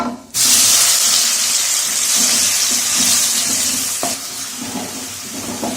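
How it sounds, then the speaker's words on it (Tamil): Ginger, garlic and shallot paste dropped into hot oil for a lamb intestine fry: a sudden loud sizzle that stays steady and hissing, with a brief clink of stirring partway through. "இப்போ இந்த இஞ்சி பூண்டு சின்ன வெங்காயம் போட்டு அரைச்சி வச்ச பேஸ்ட் ஆட் பண்ணிக்கலாம்"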